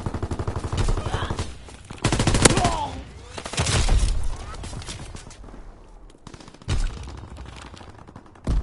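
Primary battery guns fire in a PS4 war game, rapid bursts of gunfire and heavy blasts coming in loud clusters, with a voice talking over part of it.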